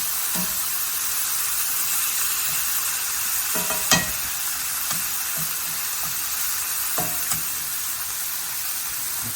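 Mushrooms and shallots simmering in wine in a pan, giving a steady close hiss of sizzling with occasional soft clicks and spoon taps throughout.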